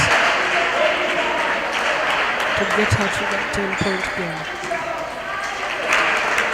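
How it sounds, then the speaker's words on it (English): An audience at the 2024 East Africa Regional Table Tennis Championship claps in a rolling burst, heard under a commentator's talking in a large hall. "The crowd is applauding all the players as they get these points from the different tables"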